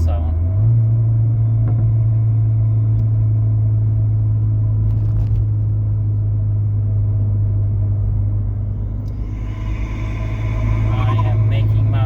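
Ford Fiesta ST fitted with a 2J-racing intake pulls uphill, its engine a loud, steady low drone with rising intake noise near the end, heard from inside the car.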